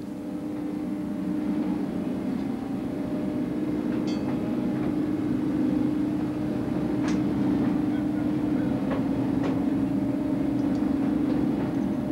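Mine carts roll on a twin-rail track in the Marienau coal pit of the Wendel mining operation, a steady low rumble with faint squeaks and knocks running continuously throughout.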